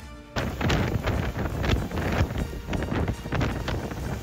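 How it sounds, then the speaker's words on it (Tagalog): Strong typhoon wind gusts and rain roar during Typhoon Uwan in Baler, Aurora, a loud continuous rushing with buffeting thumps against the microphone, alone with no voices. "malalakas na hangin at ulan, dala ng bagyong Uwan ang naranasan"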